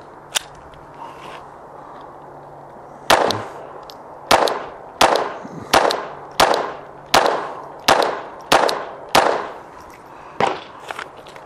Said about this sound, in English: Now for the Glock, 22 caliber conversion kit.